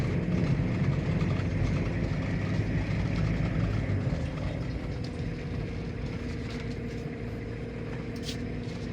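A Toyota Kijang Kapsul LGX diesel from 2000 pulls along in second gear at idle throttle, a steady low engine drone with road rumble, easing slightly quieter toward the end, no voices.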